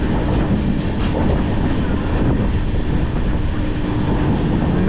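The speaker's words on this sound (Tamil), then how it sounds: "மேல்பட்டி அப்படிங்கிற ஒரு ஸ்டேஷன்ல இருந்து நம்ம ட்ரெயின் ஸ்கிப் ஆகி போயிட்டு இருக்கோம்." Jaipur SF Express sleeper train running through a small station at speed on the Coimbatore to Chennai route, a loud continuous rumble of wheels and carriages with rhythmic clatter, heard from on board.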